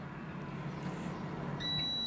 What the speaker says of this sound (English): so there's our beep